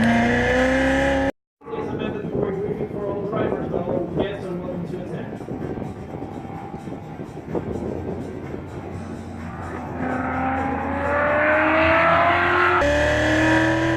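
A high-revving exotic sports car accelerates hard through a cone course on a race track, its engine pitch climbing steadily close by, with faint tire squeal and an instructor talking over the engine.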